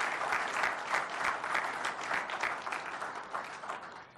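An audience at a ceremony claps steadily, a dense, moderately distant wave of applause that holds for several seconds before thinning slightly at the end.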